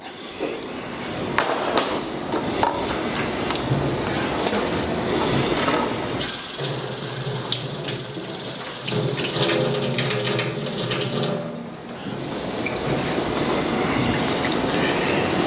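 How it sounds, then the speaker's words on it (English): Butternut squash rinsed under a running kitchen tap, a steady loud rush of water that shifts in pitch and intensity midway as the flow strikes the squash, with no talk. "I'm just going to lightly rinse it."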